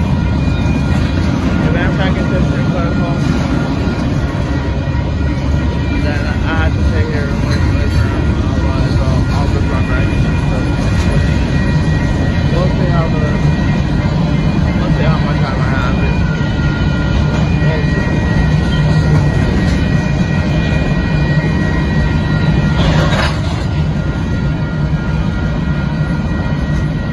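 A Union Pacific mixed freight train roars past close by at Dittmar Road in Austin, Texas, a loud, unbroken rumble and rattle that stays heavy from start to finish.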